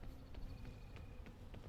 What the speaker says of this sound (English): Don't mind me, bees.